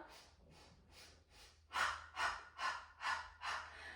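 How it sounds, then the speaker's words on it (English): Deep breaths during a Pilates session, a slow series of rhythmic inhales and exhales growing louder and fuller partway through, close and breathy with no talking. "taking nice deep breath in, and pushing all the air out"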